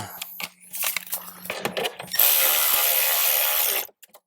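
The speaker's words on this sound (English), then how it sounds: "Now I'm going to use my ratchet to put it in." A hand ratchet drives a speaker screw into the dash of a 2018-or-later Jeep Wrangler JL. Close clicks and plastic rustling come first, then a loud sustained whirring burst lasts under two seconds before it stops.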